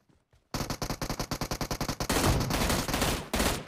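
Automatic gunfire in a battle royale video game: after a brief quiet moment, a rapid, evenly spaced burst of loud shots rings out close by, then merges into a dense, continuous volley.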